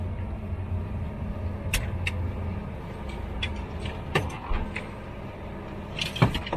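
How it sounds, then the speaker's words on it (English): A Hyundai Stargazer X MPV drives along, its steady low road and engine rumble filling the cabin, with scattered light clicks and ticks from inside the car. "Okay, so that was a POV drive of the Stargazer X."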